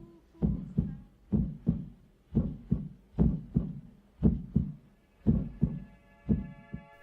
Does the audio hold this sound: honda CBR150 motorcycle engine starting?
no